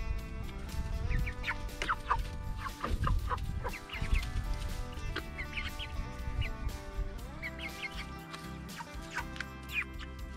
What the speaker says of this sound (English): I'm going to feed to my chickens.